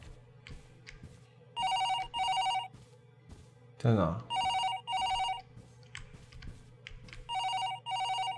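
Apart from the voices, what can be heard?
telephone ringing in Paranormal HK video game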